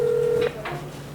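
A telephone dialing out, heard as a steady tone followed by short electronic beeps, close and clear, with faint background noise.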